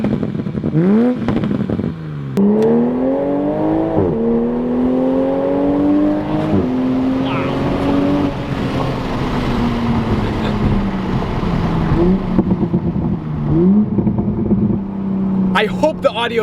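Exhaust of a 2020 Toyota Supra rises and falls through repeated revs, a loud, close, raspy engine note with crackles between pulls and a person talking over it.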